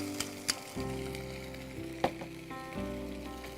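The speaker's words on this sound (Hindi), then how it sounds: "अब हम इसमें डालेंगे हरी मिर्च का पेस्ट।" Green chili paste sizzles and crackles steadily in hot oil in a kitchen pan, a continuous close frying hiss with a few sharp pops and spatters.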